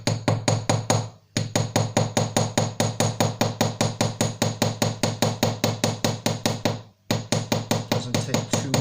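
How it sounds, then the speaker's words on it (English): Rapid, steady light taps of a small watchmaker's hammer on soft copper, dozens of close, crisp strikes in a regular rhythm with two brief pauses. "Lots of tapping gonna happen right now."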